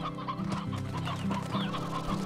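An old rooster in the Slime Rancher video game clucks repeatedly in short, close, moderately loud bursts with an uneven rhythm, alone with no talk over it.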